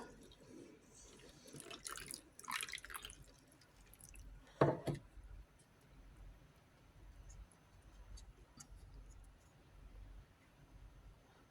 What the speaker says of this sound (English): And then I just add a little bit of water to that. Warm water.